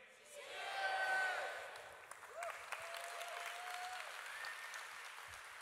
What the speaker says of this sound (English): and then a round of applause